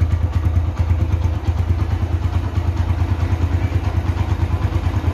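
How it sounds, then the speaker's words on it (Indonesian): A 2011 Honda Tiger Revo motorcycle engine idles steadily nearby, a loud, even low-pitched thrum with a rapid regular pulse and light mechanical clatter, running alone without talk. "Ini untuk stasioner sesungguhnya seperti ini. Khas banget, stabil banget, stasioner banget."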